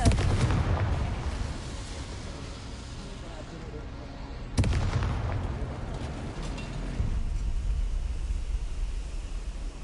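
Fiery blasting-curse explosions from the Confringo spell in Hogwarts Legacy, a loud broadband burst at the start and another sharp blast near the middle, each fading into rumbling crackle.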